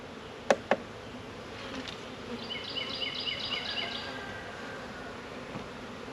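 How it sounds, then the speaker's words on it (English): A faint, steady buzz of package honeybees being placed into a hive box hums in a quiet space, preceded by two sharp clicks, with a brief brighter whirring swell in the middle. "Put the bees down inside the box."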